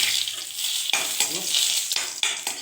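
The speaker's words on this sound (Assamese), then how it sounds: "বেঙেনাটো তেল ফ্ৰাই হৈ আছে" Eggplant pieces frying in hot oil with spices in a pan: bright, continuous sizzling, broken by a few stirring clatters, close and moderately loud.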